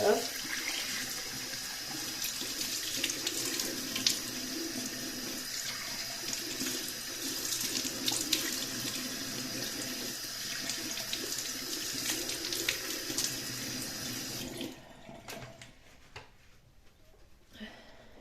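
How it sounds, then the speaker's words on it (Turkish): Tap water pours steadily into a bathroom sink while a face is being washed, a continuous close splashing rush that stops abruptly near the end, leaving faint drips and quiet. "Ve tekrar yüzümü yıkıyorum."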